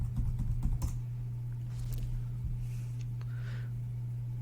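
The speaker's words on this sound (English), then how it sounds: "you're going to have to type in your password" Password typed on a computer keyboard: a quick burst of close key clicks, then a few scattered taps over a steady low electrical hum.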